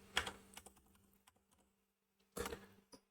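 Keys on a computer keyboard clatter in a short burst, then scattered taps, a quiet gap and another quick flurry, faint and close with no voices.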